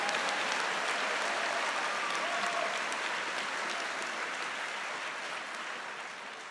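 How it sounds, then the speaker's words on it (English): Sustained audience applause at a spring college convocation ceremony, a dense, even wash of many hands clapping in a large hall, holding steady and tapering off slightly toward the end. "let's give it a clap"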